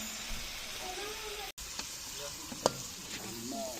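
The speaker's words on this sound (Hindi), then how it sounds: "ये बन रहा है आलू गोभी, और इसमें डाला है गोश्त का सालन" Aloo gobi cooked with meat curry sizzles and hisses steadily in a pan on a new stove, with occasional stirring clinks and a faint voice underneath.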